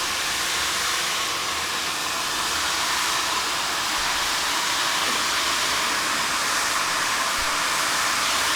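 A hair dryer fitted with a diffuser runs steadily while drying curly hair, a constant loud airy whoosh close by with no break for the whole stretch.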